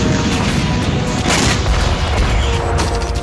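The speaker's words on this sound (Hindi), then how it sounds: "इसका सबूत है उत्तरी इजराइल से सामने आई बारूदी कोहराम की ये तस्वीर" Heavy blasts from an attack in northern Israel boom in a dense, rumbling barrage, loud and continuous with repeated deep impacts and no voices.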